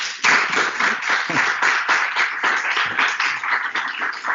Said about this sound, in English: Loud applause here